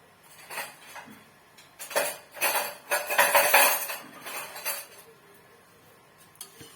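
A spoon works tomato ketchup around a nonstick pan over a gas flame, giving a run of close scraping and clinking strokes that swell in the middle and then fade, with no voices.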